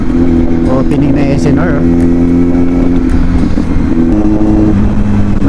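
A big bike motorcycle running loud and close on a ride at Vermosa, its engine drone holding steady then stepping down in pitch as the rider shifts gears, with the rider talking over the engine.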